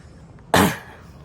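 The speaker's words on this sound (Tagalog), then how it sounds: "Oo, ubo muna" A single sharp cough bursts out loudly and close, dying away within a fraction of a second against a faint background hum.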